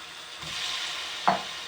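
Chicken pieces frying in a kadhai give a steady broad sizzle, with a couple of short scraping stir strokes near the end and no talking.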